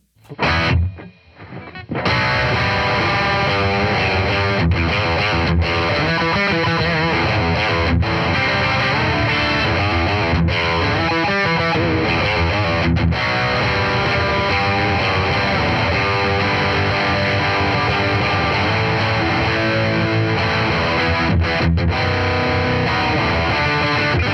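A heavily distorted Mayones electric guitar plays loud, dense chords continuously after a brief, choppy start, with no voices over it.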